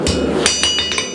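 Hammer blows ringing on a blacksmith's hook being forged on the anvil, a sustained metallic ring followed by about four sharper strikes in quick succession, close and loud with no talking.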